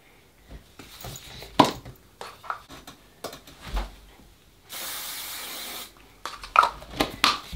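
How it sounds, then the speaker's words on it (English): A steady aerosol hairspray hiss lasting just over a second, surrounded by scattered handling clicks and soft knocks nearby. "I'll spray it with this hairspray"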